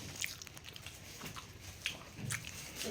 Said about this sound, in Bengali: আমি ঝুরি ভাজা খাচ্ছি